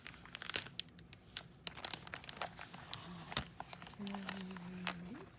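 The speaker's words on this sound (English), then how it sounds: "And there is a zipper bag." A plastic zipper bag crinkles and rustles as it is handled in an unboxing, soft irregular crackles close up and quiet, with a faint voice murmuring briefly.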